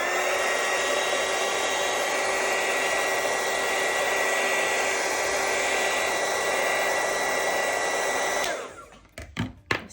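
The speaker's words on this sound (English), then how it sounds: "I'm going to take my heat gun and just kind of run over this really quick" A heat gun blows hot air over a UV DTF printed tumbler in a cold room, giving a loud, steady whooshing drone for about eight seconds before it cuts off, followed by a few sharp clicks and handling knocks.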